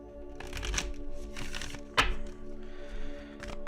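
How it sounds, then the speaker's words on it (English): Tarot cards are shuffled and handled close by, with soft riffles and taps and one sharper snap as a card is pulled from the deck, over a faint background hum. "let's pull an affirmation card for y'all"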